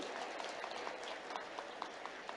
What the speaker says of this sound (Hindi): और जोरदार ताली बजाओ